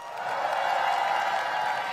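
A crowd at an outdoor political rally in Siheung, Gyeonggi Province, claps and cheers in a dense, even wash of applause that holds steady from start to finish.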